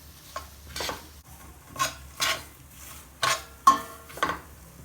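A metal ladle scrapes and stirs semolina halua in a pan, giving a series of separate rasping strokes, about six of them at uneven intervals, each one close and gritty, with quiet gaps between.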